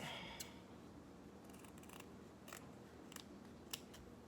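Scissors snip through fabric being cut for a homemade two-piece bikini, with several short, crisp cuts spaced irregularly over a quiet room background.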